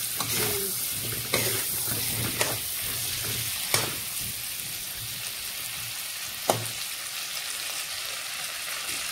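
Cauliflower florets seasoned with turmeric and salt fry in oil until browning, giving a steady close sizzle punctuated by a few sharp stirring knocks and scrapes, with no voices.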